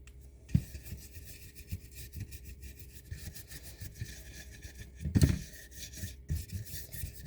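A brush dry-brushing paint onto a thrift store item, a soft rapid scratchy rubbing in repeated strokes, close and quiet, with a couple of louder knocks.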